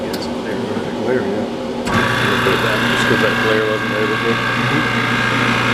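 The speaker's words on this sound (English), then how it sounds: "This has a big ass pump. Now it's going to be expelling the gases." A refrigerant recovery machine's large pump kicks in partway through and runs with a steady mechanical chugging drone while expelling R1234YF gases, close and loud, with people talking over it.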